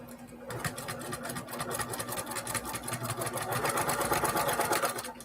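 A sewing machine stitches quilt pieces in rapid, rattling bursts of needle strokes, close up and steady, picking up speed toward the end.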